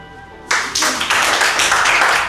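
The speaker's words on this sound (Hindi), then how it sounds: "ताली बजा दो" A class of students breaks into applause after a topper is called up for a gift, the clapping starting abruptly and continuing as a dense, steady patter of many hands close by.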